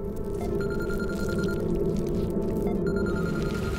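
A telephone rings in a dramatic film scene, with two bursts of electronic ringing, the first short and the second starting near the end, over a steady low background hum.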